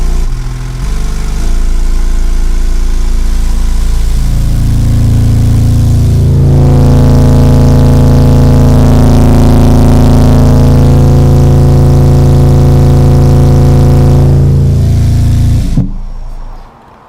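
Digital Designs Z415 subwoofers, newly mounted and running on temporary wiring, play very loud low bass tones during break-in. The sustained booming notes shift in pitch, then cut off abruptly near the end. No one talks.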